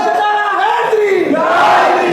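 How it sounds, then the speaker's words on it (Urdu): A crowd at a religious sermon shouts a slogan in unison, loud voices rising together and swelling toward the end in one sustained collective cry. "زور لو نعرہ حیدری"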